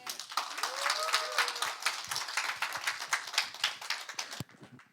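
Church congregation applauding as the guest speaker, a pastor, comes forward, a dense steady clapping that carries on for several seconds before cutting off, with voices faintly mixed in underneath.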